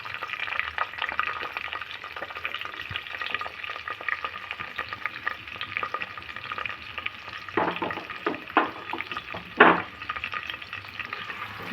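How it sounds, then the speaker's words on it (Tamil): Onions and green chillies frying in hot oil for a mushroom dish, a close, steady crackling sizzle with occasional louder stirs and scrapes toward the end. "அப்புறம் வெங்காயம், பச்சை மிளகாய் மிக்ஸ் போட்டுக்கலாம்."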